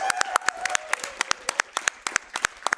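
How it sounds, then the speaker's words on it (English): An audience at the ESA Winter 2022 speedrun marathon claps for the event's tech crew, sparse, crisp individual claps in a quick irregular rhythm from a modest crowd, with a faint tone behind them. "give them a round of applause too"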